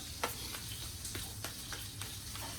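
Soft kitchen clatter and scraping with faint sizzling in the background, a few light utensil taps scattered throughout, no voices.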